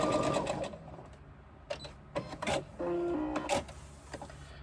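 A home sewing machine stitches through interfaced layers of a crossbody bag in short bursts, whirring runs separated by pauses and mechanical clicks, with no talking.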